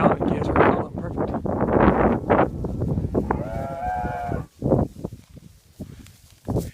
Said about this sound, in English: Cow and calves are calling perfect.